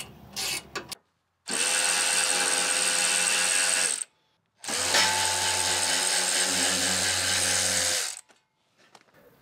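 A ratchet backs out two 13 mm screws from the cross brace under a Mercedes Sprinter van, heard as two long, steady bursts of rapid clicking, close and loud, separated by a short pause.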